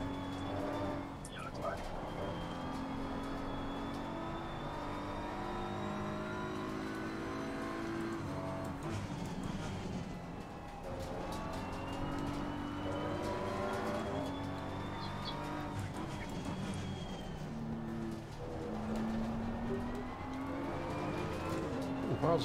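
A BMW M4 racing around COTA in a sim racing game, its engine droning steadily and rising and falling through gear changes, with faint tire squeal throughout.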